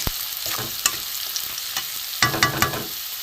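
Potatoes and onions frying in a pan, a steady sizzle with a few clanking stirs of a utensil, strongest near the end; close and alone with no voices.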